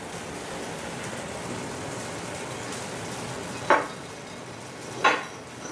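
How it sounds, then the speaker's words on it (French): Sausage fries in a pan with a constant crackling sizzle like light rain, broken twice by sharp metallic clanks of utensils against the pan. "J'ai ma saucisse qui est en train de frire."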